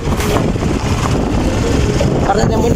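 A motorbike engine carrying four riders drones steadily and loudly up close, with a person talking over the running noise.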